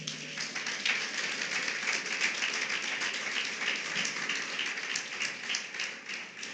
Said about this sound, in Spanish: Aplauda a Cristo